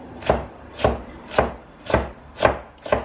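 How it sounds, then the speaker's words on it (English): A knife chops an onion on a board in six evenly spaced, crisp strikes about half a second apart, close and distinct with quiet gaps between, no voices. "Chop it up."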